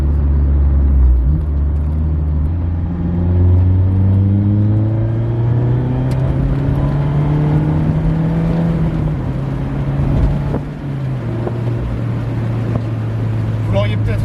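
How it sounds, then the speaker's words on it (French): Mazda MX-5 ND1 engine fitted with a BBR Super Sport aftermarket rear silencier, a steady low droning exhaust note with gradual pitch rises and falls under continuous cruising load, loud and close throughout. "Il y a simplement le silencieux final qui a été changé par un BBR Super Sport."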